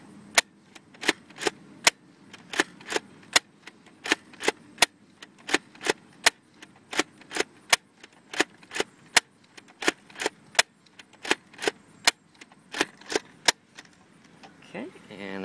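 A Lameila Fighter No. 1 foam disc blaster, an off-brand Nerf-compatible toy, fires ten Vortex discs outdoors in a quick steady series of sharp snapping shots, each a crisp loud pop with faint handling noise between.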